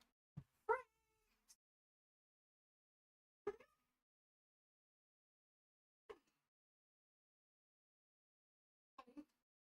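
A camera-shy cat meows indoors, a few short separate meows spread out with long silences between them, close and fairly soft in an otherwise quiet room.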